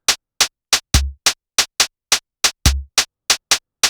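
Drill-style drum beat programmed in Soundtrap: a sparse pattern of sharp, evenly spaced snare hits, punctuated twice by a deep booming kick with a decaying low tail, loud and dry with no voices.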